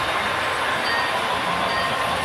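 A model train runs around a figure-8 layout on a model railroad with a small town, giving a steady, continuous rolling rush with a faint high whine throughout, close and unbroken, with no talking.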